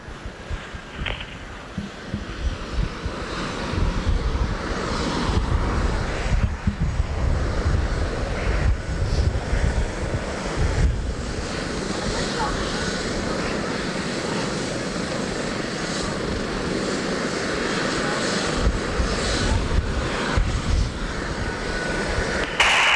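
A medical flight helicopter sitting on scene at a mock crash drill, its engine and rotors droning loudly and steadily at close range throughout.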